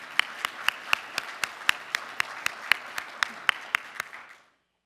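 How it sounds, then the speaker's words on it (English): Slow, evenly spaced claps, around eighteen in a steady rhythm, from a small audience at a college opening ceremony. They ring with some room echo and stop abruptly near the end. "thank you for the clap"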